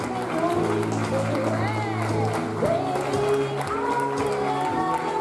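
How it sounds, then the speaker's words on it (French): Audience applause at the Miss Beauté Franche-Comté 2019 beauty pageant, a steady wash of clapping mixed under loud stage music, with an announcer's voice speaking over it. "Alors, si vous applaudissez bien fort,"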